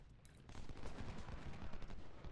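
Gunfire in the video game Ultimate General: Civil War, a dense crackling fusillade of massed musket volleys at a distance, continuous throughout without speech.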